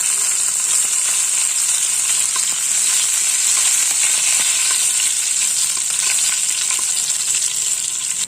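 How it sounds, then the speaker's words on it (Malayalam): Urad dal sizzles steadily in hot oil, a dense, even crackle with no pauses, held at a constant close level throughout and with no talking. "എണ്ണ ഒഴിച്ച് വെച്ചിട്ടുണ്ട്. നന്നായി ചൂടായിട്ടുണ്ട്. ഇതിലേക്ക് നമുക്ക് കുറച്ച് ഉഴുന്ന് പരിപ്പ് ഇട്ട് കൊടുക്കാം."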